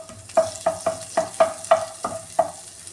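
Chopped garlic frying in a pan for restaurant-style noodles, with about eight evenly spaced taps and scrapes of a utensil over a low sizzle.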